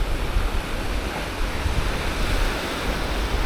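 Wind and ocean waves on a beach at Florianópolis form a steady, loud broadband wash, with constant surf hiss and gusty wind noise and no pauses.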